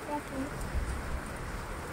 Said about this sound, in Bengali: বৃষ্টির জলে বাবল হচ্ছে না, বৃষ্টি।